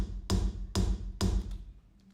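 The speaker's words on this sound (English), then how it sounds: "I'm just gonna repeat that one kick over and over and over and over again" Three punchy kick drum hits from a sampler repeat at an even pace, deep and close, each the same, followed by a short decaying tail.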